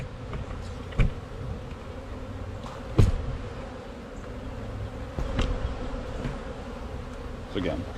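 Bees buzz steadily around an open, strong hive, a close continuous drone with a few louder passes as individual insects fly near, heard alone without talking.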